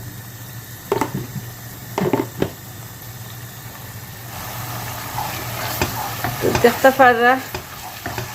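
Masala spices cooking in a pan give a steady low sizzle that grows stronger partway through, with a couple of stirring clatters and a brief voice near the end.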